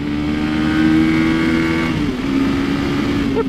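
A 2022 Honda CRF300L's small 286cc single-cylinder engine revs up and holds high, then drops and climbs again, a buzzy, loud tone close to the microphone.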